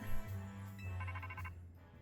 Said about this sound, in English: Turn off your phone, Urbane.